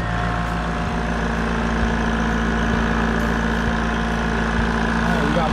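A Husky 1/2 HP air compressor runs steadily inside an outdoor enclosure, a constant close mechanical drone with a low pulsing hum throughout, and no pauses.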